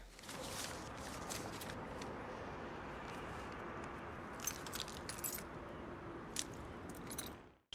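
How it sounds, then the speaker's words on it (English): Truck keys jangle with a bright metallic shimmer in scattered bursts over a steady hiss of background noise, close and fairly quiet, ending abruptly. "Keys to the truck."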